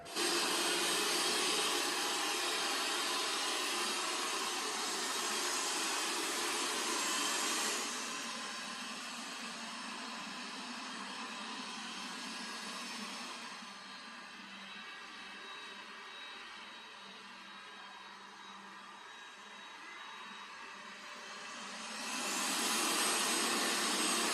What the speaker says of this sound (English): as the vacuums go along your house, it's going to go along the perimeter first, and then it's going to fill in that perimeter back and forth cleaning pattern